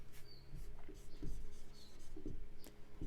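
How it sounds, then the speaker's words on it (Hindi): Writing during a physics lecture on electric fields, with scratchy, irregular strokes of chalk or marker on a board, fairly close and clear, in a short run of bursts against a steady low room hum. "तो मैं लिख देता हूं"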